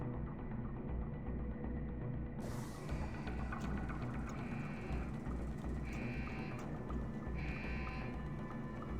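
A police station alarm in Deus Ex: Human Revolution sounds in repeated electronic bursts, a pulsing tone rising over a dense, rumbling game ambience at moderate volume.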